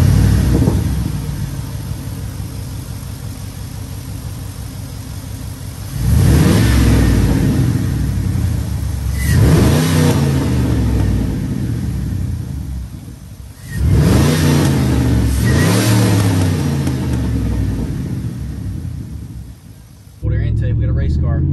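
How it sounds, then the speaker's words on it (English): A Chevy 5.3 V8 truck engine fitted with a Volant cold air intake revs loudly in several separate bursts, each swelling and sweeping up in pitch before dropping back to a steady idle, recorded close up. "it is time to crank it up, go for a drive, let it learn its new intake"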